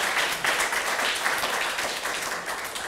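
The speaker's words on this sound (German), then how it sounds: "Das verdient auf jeden Fall nochmal einen Applaus." Audience applause at a German late-night stage show, a steady, dense wash of many hands clapping that holds fairly evenly for about three seconds with no one speaking over it.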